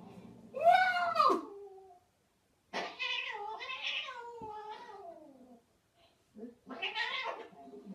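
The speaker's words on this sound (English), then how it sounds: "Oh, imagine having a cat and he does that." A cat meows loudly and close by in three drawn-out, wavering calls, each with a caterwauling rise and fall, separated by short silences.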